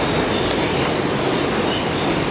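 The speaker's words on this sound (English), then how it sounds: "They're using a normal five train on the two today." A New York City subway train, a five train running on the two line, rolls into the Wall Street station with a loud, steady rumble of wheels and a faint high squeal.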